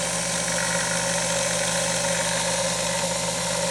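A Grizzly G0781 milling machine motor, refitted with a 2.5 horsepower armature, runs steadily with a constant loud hum and mechanical whir, heard up close with no speech.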